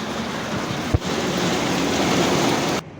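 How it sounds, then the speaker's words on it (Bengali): Heavy sudden rain pouring down as a dense, steady hiss close by, broken by one sharp thump near the start, then cutting off abruptly just before the end. "খুব খুব বেশি বৃষ্টি ফট করে এসে গেছে, বুঝতেই পারিনি।"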